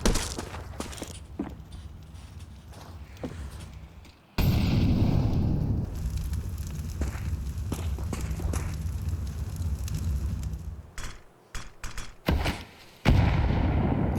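Gunfire in a professional Counter-Strike esports match, scattered shots and bursts with a loud sustained blast of game noise, some sharp cracks near the end, no talk.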